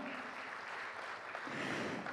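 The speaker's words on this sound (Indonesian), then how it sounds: "Boleh tepuk tangan untuk kalian semua" A faint, distant audience applauds steadily during an Indonesian higher-education policy presentation, a soft continuous wash of clapping with no talk over it.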